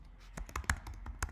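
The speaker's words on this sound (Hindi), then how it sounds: "क्लिक करता हूँ" Mouse clicks on a computer while setting up display ad units, a series of short sharp taps scattered over a quiet background, close and fairly faint.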